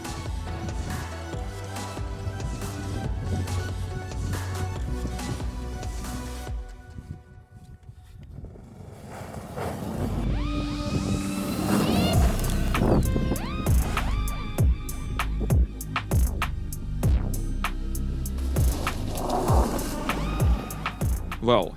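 An electric BRP Outlander quad is ridden hard, with whining electric motor surges, clatters and knocks of the machine over rough ground, a brief quieter lull, then busier, louder bursts of activity.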